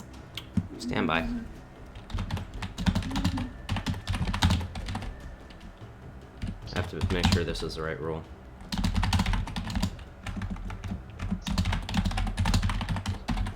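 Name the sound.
loud computer keyboard typing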